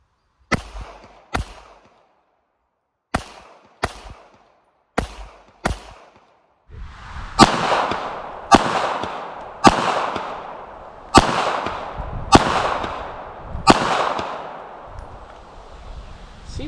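A compact .380 pistol fires at a shooting range: about a dozen loud, sharp shots, first in spaced pairs, then a steadier series with longer echoing tails, with no talk between them.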